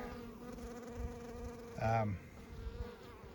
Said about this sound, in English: I'm here at the dam hive taking a look at the bees